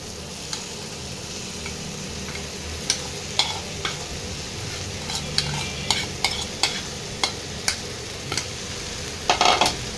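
Shrimp fry in a pan with onion, green chili and tomato, a steady sizzle punctuated by sharp, repeated clacks of a spatula stirring, close and without talk.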